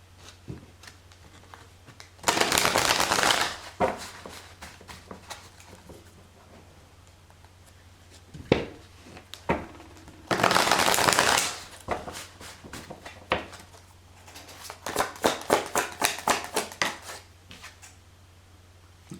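Tarot cards are shuffled by hand during a card reading, two dense riffling bursts of a second or so each, followed by a run of quicker, patchier card flicks and taps, close and fairly quiet.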